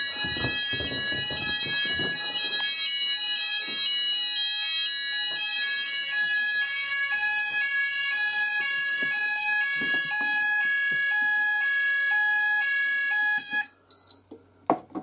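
An Apollo XPander fire alarm system sounds during a test, a loud repeating electronic tone pattern cycling steadily for about fourteen seconds before cutting off, followed by a few faint knocks.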